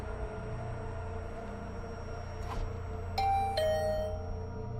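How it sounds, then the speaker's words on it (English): A bell in The Hundred Line video game chimes twice in quick succession, a bright ding-dong over a low steady background hum, fairly close and clear with no voices. "The bell rang again."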